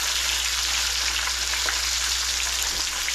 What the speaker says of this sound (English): So we're just gonna throw it in the oil long enough for it to get a nice crust